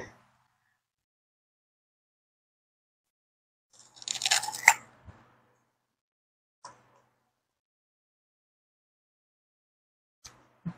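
A bite into a fresh green pear gives one crisp crunch, followed by a few soft, scattered chewing sounds close up, separated by long quiet gaps.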